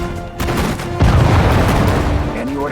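Sustained loud gunfire and explosive booms in the World War II strategy game Sudden Strike 4, Hurtgen Forest battle, intensifying sharply after a second and continuing as a dense roar, with faint unit voices mixed in.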